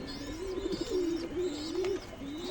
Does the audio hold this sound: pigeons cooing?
yes